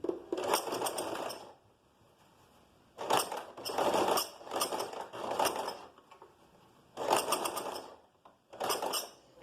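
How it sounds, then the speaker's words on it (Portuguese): A sewing machine topstitching a curved seam close to the join on the reverse side, with short bursts of quick mechanical stitching separated by pauses and small clicks as the fabric is adjusted by hand, close but fairly soft. "Então a gente vai fazer um pesponto bem rentezinho na união que a gente fez pro lado do revel"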